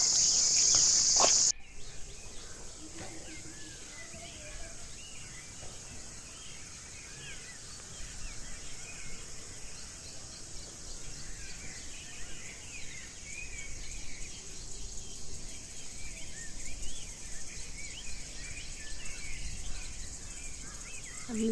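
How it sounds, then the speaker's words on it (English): Jungle ambience dominated by a steady high insect drone, with scattered faint bird chirps and calls in the distance, fairly quiet overall. "listening to the birds,"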